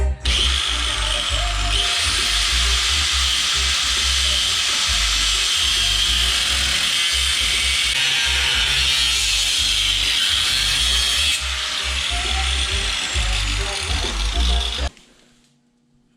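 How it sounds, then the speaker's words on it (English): A cutoff wheel slices through the steel frame of a 12-valve Cummins truck, a loud continuous grinding whine held for about fifteen seconds before it spins down and stops. "I'm probably gonna hit it with a cutoff wheel to get a nice line started."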